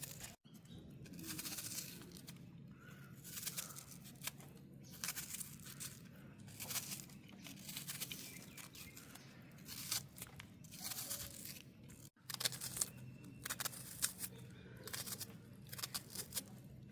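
A knife cuts a big onion into small pieces, making a rapid series of crisp, close crunching chops with short pauses between bursts.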